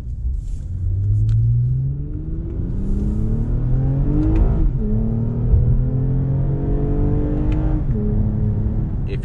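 A 2020 Toyota Avalon TRD engine revs under hard, floored acceleration, its steady loud rumble rising through gear changes with climbing pitch, heard from inside the car without talk.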